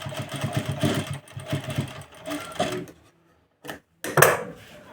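A sewing machine double-stitches the neckline of a ready-made kurti, running in a quick, close chatter for about three seconds before a brief pause and a short final burst.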